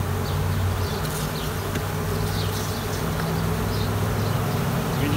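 A dense swarm of honeybees in a queenless nucleus hive drones loudly and continuously, a close, steady buzz with individual bees flitting past, and no one speaking.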